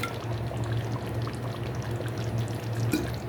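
Rose water is poured into a pot of chicken roast, making a steady close trickling pour over a low background hum.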